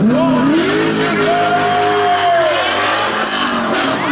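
A drift car engine at a car show revs and climbs in pitch, rising and falling in long sweeps over steady road noise, close and loud.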